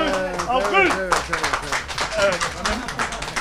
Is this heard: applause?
yes